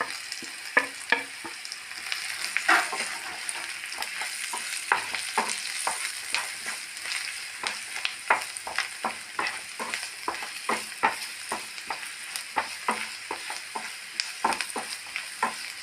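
Spice masala of turmeric, coriander and chilli powder frying in a pan for a bitter gourd curry, with steady sizzling broken by frequent sharp scrapes and clinks of a spoon stirring throughout, close and moderately loud.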